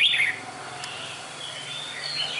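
A red-whiskered bulbul kept as a cage bird sings in short bright chirps near the start, followed by faint thin notes over a steady low background hum.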